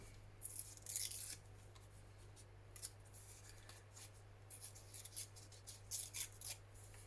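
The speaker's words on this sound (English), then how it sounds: "So we could maybe just tear a little corner out." A small corner is torn from a sheet of paper in a few short, dry ripping bursts, close and quiet, separated by near-silent pauses.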